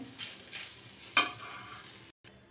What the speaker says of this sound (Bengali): এখন আমি এখানে রসুনগুলো ভাজি করে নেব, পেঁয়াজ ভাজি করে নেব